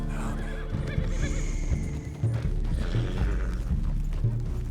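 A horse neighs in Red Dead Redemption 2, a loud whinny up close, with hoof clip-clops and a busy game soundscape around it.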